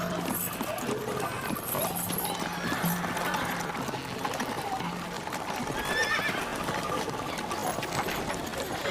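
Horse hooves clip-clop at a steady gallop-like rhythm and a horse neighs loudly over a busy, dense background in a dramatized ancient-era scene, with no speech over the animal sounds.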